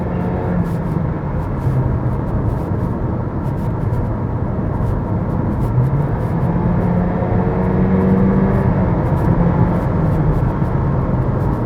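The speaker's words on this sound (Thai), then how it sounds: "ด้วยคันเร่งของเขา การต่อเกียร์ต่างๆ เนี่ย ผมรู้สึกว่า มันมีความสมูทมากยิ่งขึ้นนะครับ" A 2021 Honda Civic RS accelerates flat out from 0 to 100 km/h, its engine a loud, steady, rising whir with a constant road roar filling the whole stretch, no voices.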